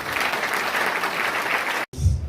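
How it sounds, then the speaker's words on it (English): Crowd at a large public gathering in Sunyani applauding, dense continuous clapping that stops abruptly near the end before a muffled low thump. "much more bigger and louder round of applause for yourself"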